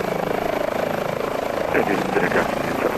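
An HPG H145 helicopter in Microsoft Flight Simulator runs with its engines idling, a steady whirring rotor drone holding throughout, with faint chatter surfacing near the end.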